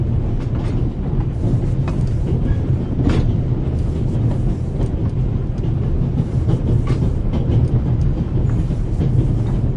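A train rolls along rails in the game The Raven Remastered, a loud, continuous rumble with faint rhythmic clatter throughout and no voices.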